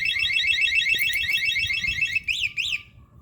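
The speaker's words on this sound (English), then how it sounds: "we installed a motion alarm system, and it's remote as well" A motorcycle's remote motion alarm goes off loud and close, with a rapid warbling electronic chirp followed by a few rising whoops before it cuts out.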